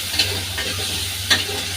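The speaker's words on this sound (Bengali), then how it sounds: "এইগুলো কাঁচা গন্ধ দেওয়া পর্যন্ত ভেজে নেব" Onion, garlic and ginger paste frying in oil for a chicken and pumpkin curry, a low steady sizzle with a faint hum underneath and two brief stirring scrapes.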